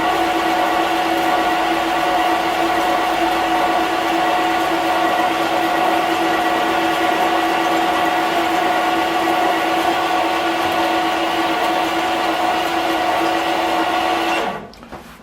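A metal lathe, an Axminster/SIEG SC4 fitted with an Aloris-type wedge toolpost and using cutting oil, cuts steadily with a loud, continuous humming whine that holds for about fourteen seconds, then stops abruptly.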